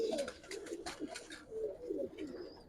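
A Giribaz high-flyer pigeon, a red-marked bird, coos up close in several rolling phrases, with brief chirpy sounds mixed in and a faint high tone near the end.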